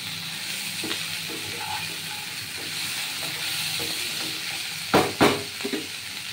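Steady sizzling of sweet pumpkin frying in a pan, with occasional stirring and a couple of sharp utensil clanks near the end.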